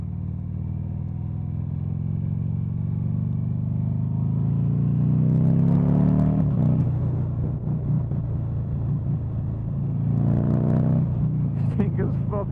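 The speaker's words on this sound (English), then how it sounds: "You just buy this bike just to rev it." A Buell XB9SX motorcycle engine idles with a heavy low rumble, then revs up in several rising pulls, loud and close throughout.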